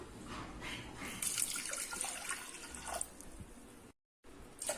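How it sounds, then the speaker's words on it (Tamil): Water splashes and pours into a pot of washed moong dal, a bright gurgling stream for a few seconds, then a brief silence before the splashing resumes. "இப்போ தண்ணி ஊற்றிக்கலாம்"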